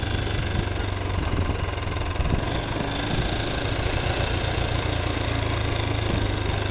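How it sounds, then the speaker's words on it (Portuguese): A motorcycle engine runs steadily and loudly close by, a continuous rough mid-pitched drone with no pauses throughout. "a galera escuta esse barulho de moto."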